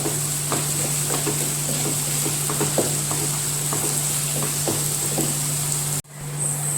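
Onions and curry leaves fry in oil in a pan with a loud, steady sizzle, punctuated by occasional spoon scrapes and knocks from stirring, before cutting off abruptly near the end.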